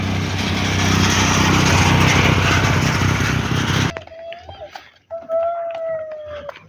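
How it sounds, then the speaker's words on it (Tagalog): A motorcycle engine drones loud and close on a foggy street in Baguio City, then cuts off abruptly, giving way to quieter scattered sounds and a couple of faint whistling tones. "Ano, may motor oh."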